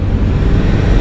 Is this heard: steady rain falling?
no